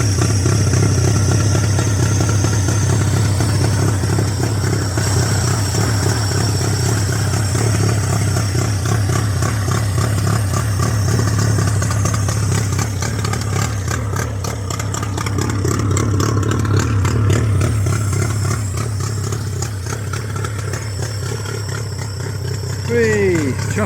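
A two-stroke boat outboard freshly filled with oil runs steadily at a constant idle, a loud, droning hum with a fast buzzy rattle throughout.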